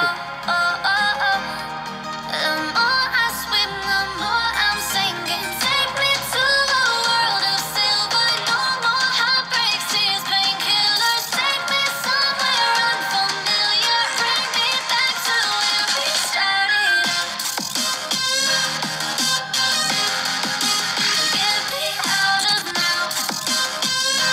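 Music played through the speaker of a Google Pixel 6 phone, a continuous, dense, bright track with steady loudness and no talking throughout.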